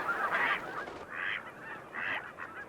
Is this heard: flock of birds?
yes